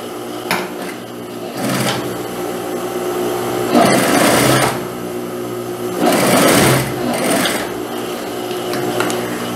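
A sewing machine stitches the facing of a dress in several bursts, its needle chattering rapidly and loudly nearby, with short pauses between runs of stitching.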